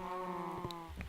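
Cow mooing in Minecraft with the Feed The Beast modpack: one long, close, low moo with a slightly falling tone, ending in a short grunt, and no talking.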